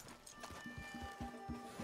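Horses in Red Dead Redemption 2 clip-clop at a steady trotting rhythm on the ground, hoofbeats close and clear with a faint musical tone running underneath.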